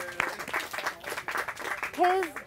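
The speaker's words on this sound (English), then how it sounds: "let's give a big round of applause." An audience at a gardening workshop on preparing new beds applauds a speaker, a continuous wash of clapping with a voice rising over it near the end.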